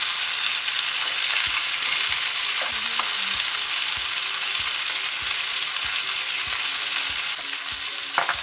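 Fish frying skin-side down in a hot pan, a loud, steady sizzle and crackle of oil that continues throughout, with occasional soft taps of a utensil.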